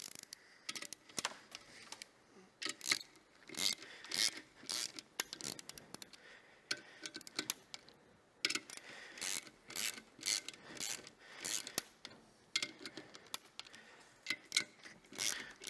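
A torque wrench tightening a clutch mechanism, with repeated quick metallic ratchet clicks in short bursts separated by pauses, close and quiet.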